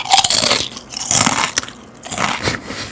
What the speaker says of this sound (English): Can I just say how much I hate the sound of people chewing?